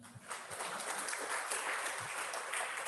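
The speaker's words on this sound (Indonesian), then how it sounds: "Tepuk tangannya mana ya?" An audience claps at a university graduation judicium ceremony, soft, continuous applause heard from some distance in a reverberant hall, with a few muffled low thumps.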